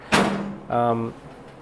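The loose, misaligned door of a 1929 roadster pickup swings shut with a single hollow thud that does not latch, followed by a short metallic rattle, heard close up.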